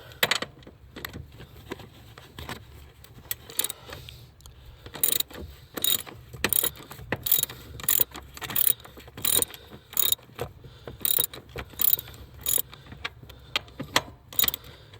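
A socket ratchet clicks in quick repeated bursts while removing bolts from a Kia Soul dashboard during heater core work, close up and alone, with brief pauses between the runs of clicks.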